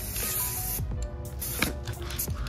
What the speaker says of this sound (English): When you're spraying the paint, you're gonna spray it like this.